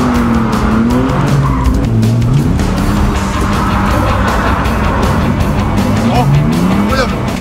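A drift car slides around a race circuit during a track day, its tires squealing in long wavering screeches over a loud, continuous engine roar.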